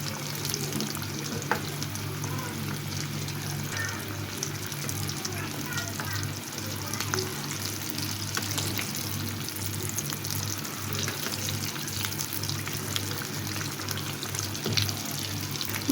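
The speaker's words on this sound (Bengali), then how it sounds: "চুলার হিটটা আমি মিডিয়ামে রেখে ভেজে নিচ্ছি" Fish fries in a pan on medium heat with a steady, continuous sizzle and crackle, while a person talks over it throughout.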